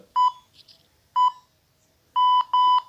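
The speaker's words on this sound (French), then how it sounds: "Je laisse passer le bip." Four short electronic beeps, clear and steady in pitch, two single tones spaced apart and then a quick pair, with quiet gaps between them.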